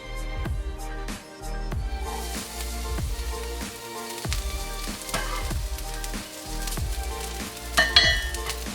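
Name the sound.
chopped garlic sizzling in olive oil in a pan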